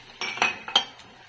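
Onions stirred in a pan for pineapple buttered seafood give a few sharp metallic clinks of a utensil against the pan, three or four quick knocks over quiet background.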